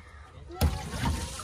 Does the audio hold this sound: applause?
no